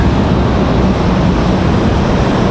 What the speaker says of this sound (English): CRJ finally on the move here